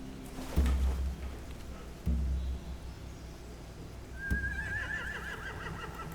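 Horses neigh and whinny in a video game barn scene from The Walking Dead: The Final Season, with two loud snorting bursts early on and a long, wavering whinny rising near the end over steady background ambience.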